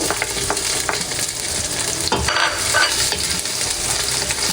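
Chopped onion goes into a hot pan for chicken sotanghon, giving a loud, steady sizzle with spatula scraping and stirring throughout, close up and without speech.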